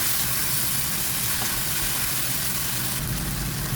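Ground pork sizzles in a covered pan, a steady, unbroken hiss of frying that stays close and even throughout, with no voices over it.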